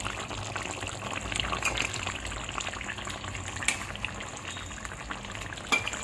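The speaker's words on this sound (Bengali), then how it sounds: "আর একটু ফুটে উঠলেই আমি এই মাছের ঝোলটাকে নামিয়ে দেবো।" Bengali-style shol (snakehead) fish curry with ground roasted cumin paste simmers in a pan, giving a steady bubbling sizzle with a few sharp clinks of stirring, with no voices.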